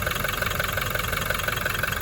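The diesel engine of a 2021 Toyota Hilux 4WD pickup idles with a steady, rattly knock, loud and close, its rhythmic clatter continuing unbroken with no voices.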